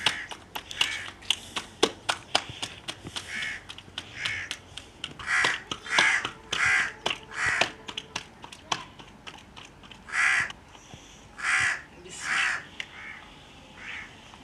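Village crows caw repeatedly as torn scraps of roti bread are scattered for them, making a string of loud, harsh calls at close range, mixed with faint taps and light clicks.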